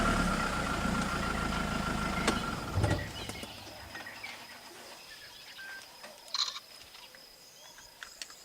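A safari vehicle's engine idles near resting lions, a low steady rumble that fades out after a few seconds, leaving faint bird calls and occasional soft clicks in the background.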